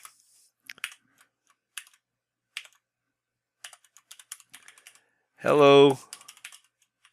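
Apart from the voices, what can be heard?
typing on a computer keyboard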